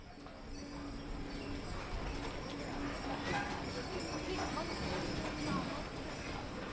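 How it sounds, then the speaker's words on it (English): Horse-drawn carriage hooves clip-clop along a street in car-free Zermatt, a Swiss resort town, in a steady rhythm at moderate distance beneath a continuous narrating voice. "People get around in horse-drawn carriages and small electric vehicles."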